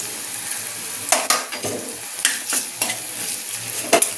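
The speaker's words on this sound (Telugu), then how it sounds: "అల్లం వెల్లుల్లి పేస్ట్ వేసి అల్లం వెల్లుల్లి పేస్ట్ పచ్చి వాసన పోయేట్టుగా కొంచెం వేపుకుందాము" Ginger garlic paste sizzles and fries with chopped onions and green chillies in a pan, a steady crackle broken by several sharp stirring scrapes, close and fairly loud with no voices.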